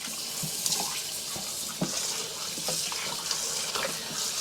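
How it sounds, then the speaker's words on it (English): Beef bones for a bone stock are washed under a running kitchen tap, a steady close hiss of flowing water with occasional splashes and knocks as the bones are handled, and no talking. "Wash it a little bit. I'm gonna wash it."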